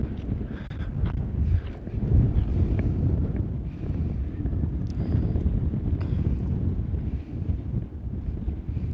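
Gusty outdoor wind rumbles against the microphone, a continuous moderate low roar with small fluctuations and occasional faint clicks, no speech.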